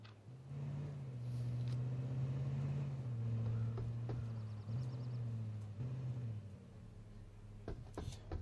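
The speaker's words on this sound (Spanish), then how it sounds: "Ya suena otro vehículo por aquí" A vehicle engine in the H1Z1 Just Survive survival game hums steadily close by, a low, even drone that dips and returns in places, with faint clicks near the end and no one talking.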